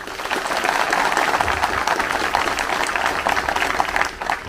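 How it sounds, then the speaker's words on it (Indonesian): Audience applause at a long march ceremony for PPI Madiun cadets at Monumen Kresek in Madiun: steady, dense crowd clapping that holds at an even level throughout, fairly close, with no voice over it. "Tepuk tangan untuk kita semua."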